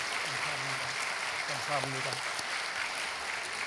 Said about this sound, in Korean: 박수로 한번 감사를 표현하겠습니다